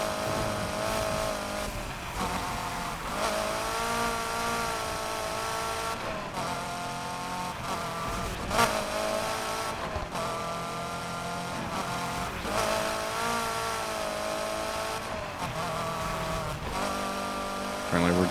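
Cars racing in a figure 8 event in Need for Speed Heat, a stiff-suspension car's engine revving and droning with repeated gear-shift rises and falls, close and continuous, with someone talking over it.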